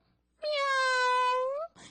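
A voice imitates a cat's meow in one long, drawn-out wailing tone lasting about a second, close and clear, ending with a brief breathy sound.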